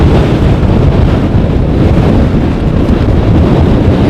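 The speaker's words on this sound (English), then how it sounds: "It is very windy here today." Heavy storm wind at Amsterdam Schiphol airport buffets the microphone in a constant, loud low rumble with no breaks and no voices.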